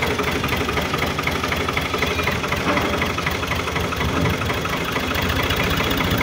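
A 2006 Ghazi tractor's engine runs steadily and loudly close by, a continuous low, chugging diesel rumble holding an even pace without clear rises in revs.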